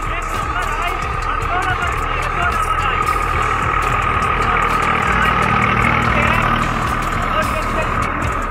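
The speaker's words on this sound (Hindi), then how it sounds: "जब ये आपका ट्रैक्टर कुछ इस कंडीशन में चलेगा" A Swaraj 744FE tractor runs with a rotavator working a field, its diesel engine giving a steady, loud, low rumble throughout with constant mechanical clatter and no breaks.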